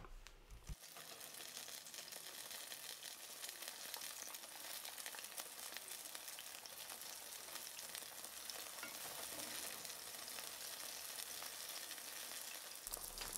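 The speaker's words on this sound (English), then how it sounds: "we're just going to cook them for 5 minutes on each side, just until they come up to a nice golden brown" King oyster mushrooms fry in olive oil in a pan, a steady close, loud sizzle and crackle running unbroken from start to finish with no talking.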